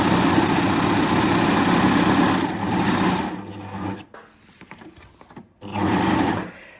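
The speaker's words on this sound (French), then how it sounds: "La surjeteuse est une des rares machines qu'on peut coudre dans le vide" A Baby Lock Ovation serger stitching a thread chain in the air, heard as a loud, steady high-speed motor whir that stops briefly, leaving quiet handling noises, then starts running again.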